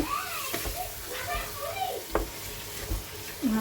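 Chicken sautés in a little olive oil with added water, giving a close sizzle broken by scraping stirs and clinks of a spoon, while someone talks over it and a voice is heard faintly.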